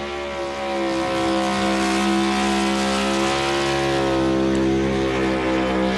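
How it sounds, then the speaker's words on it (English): A NASCAR Cup Series stock car holds a loud, steady high-rev engine drone through a burnout, with strong harmonic tone building slightly after the first second and staying close and sustained. "He's been waiting for a while to do that burnout."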